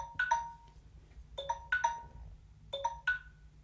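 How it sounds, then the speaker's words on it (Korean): A classroom bell signals the end of class with a faint electronic chime pattern of quick ding-dong note pairs repeated three times over a low hum. It sounds distant and soft, with no talking over it. "시간이 다 됐다는 종이 울렸습니다"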